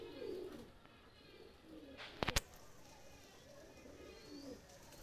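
A pair of golden pigeons gives soft, low cooing in a few separate bouts, faint and close, with a short sharp clatter in the middle.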